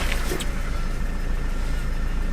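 A high-mileage Ford car idling nearby with a steady, loud low rumble and a faint fluttering rattle throughout, with no talking.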